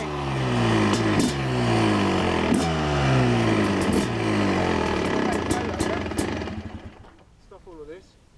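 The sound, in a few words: 2006 Suzuki RM250 two-stroke motorcycle engine revving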